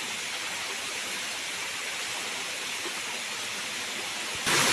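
Water gushes along a stream with steady broadband rushing, loud and continuous, with no voices over it, ending in a slightly brighter burst.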